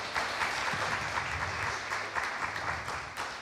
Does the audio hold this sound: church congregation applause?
yes